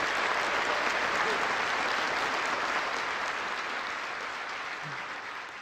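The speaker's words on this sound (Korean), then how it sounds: "이왕 박수 치는 거 우리 대통령님과 김건희 여사님께 다시 한번 박수 부탁드리겠습니다." Audience applause at the 54th National Prayer Breakfast in Korea, a dense, steady wash of clapping from a large crowd, loud and even, tapering slightly toward the end.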